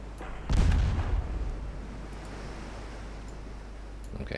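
A single heavy boom of warship gunfire in Ultimate Admiral Dreadnoughts naval combat, a loud low blast that rumbles and slowly fades over a steady engine drone.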